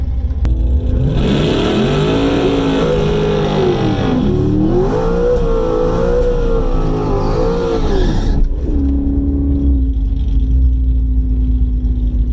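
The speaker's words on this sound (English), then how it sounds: "Done my burnout." Twin-turbo Corvette engine revving hard through a burnout, a loud sustained drone rising and falling in pitch for about eight seconds before settling to a steadier lower idle-like hum, close and continuous with no talk.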